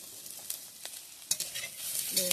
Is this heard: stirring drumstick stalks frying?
yes